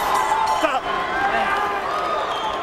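Boxing crowd at a WBO title bout roaring and cheering steadily throughout, a dense sustained wall of voices with whoops rising above it, close and loud.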